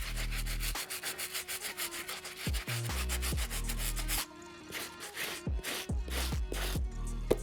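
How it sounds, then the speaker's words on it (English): Stiff bristle brush scrubbing the sole of an Air Jordan 5 Metallic sneaker in rapid, loud back-and-forth strokes. Over a steady low background hum, the strokes come in a quicker series, then in separate bursts. "Then I'm gonna do one more pass with the stiff bristle brush."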